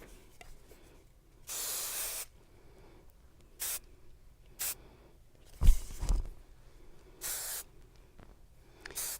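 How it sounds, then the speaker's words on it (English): Hair spray misted onto styled hair in several short hissing bursts, fairly close and separated by quiet pauses, with faint handling noises between them. "Okay, and then you just grab the spray a little bit."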